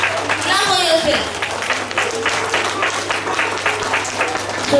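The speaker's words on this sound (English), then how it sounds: "Clap for yourself." Schoolchildren at a class assembly clap for themselves, a dense, steady patter of many small hands running the whole time, with a voice rising over the start and chatter mixed underneath.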